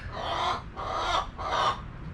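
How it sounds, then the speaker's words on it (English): A hen calls close by in three loud, evenly spaced squawking bursts, each about half a second long, with no talk over them. "Guys, sorry about the chicken."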